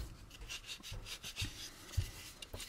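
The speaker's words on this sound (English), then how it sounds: "run a bit of loose sandpaper on your fingers down here too, just to smooth it out" Loose sandpaper held in the fingers rubs over a plastic part of an AMT U.S.S. Enterprise model kit, giving soft, faint rasping strokes with a few light knocks.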